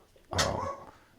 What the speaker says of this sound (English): now she's yelling at our dog Snoopy for barking